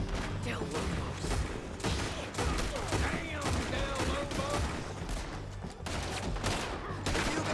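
A video game shootout in a town crackles with rapid, dense gunfire, overlapping rifle and pistol shots in fast bursts with shouting voices mixed in, loud and close throughout.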